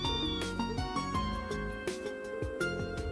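A cat meows in the video game Trails Into Reverie, several short rising and falling meows in quick succession over a layer of game music, close and clear.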